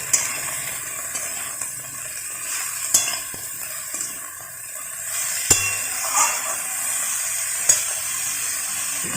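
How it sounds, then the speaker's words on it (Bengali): Sliced snake gourd fries in a pan with a steady bright sizzle, while a spatula scrapes and stirs in occasional sharp clinks over about nine seconds. "আবার আমরা ভালো করে সমস্ত চিচিঙ্গাগুলোকে মাখিয়ে নিচ্ছি।"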